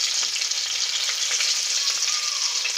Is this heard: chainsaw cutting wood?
no